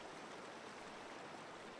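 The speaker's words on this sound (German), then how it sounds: "Oh, ein Fluss." A river flowing in the video game Diablo III, a faint steady rushing wash of water with no talk.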